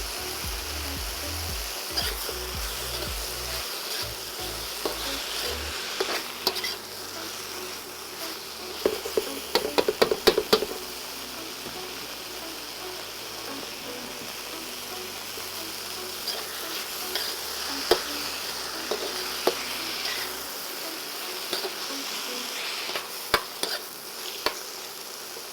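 Butter sizzles in a pan with broccoli and onions, a steady soft frying hiss with occasional stirring clatters and utensil scrapes over several seconds.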